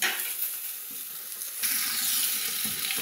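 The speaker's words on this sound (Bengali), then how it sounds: "পটলটা এরকম ভাজা ভাজা হয়ে গেলে" Pointed gourd (patol) frying and being stirred in a pan, a close, steady sizzle with scraping stir sounds that grows a little louder midway, no talking.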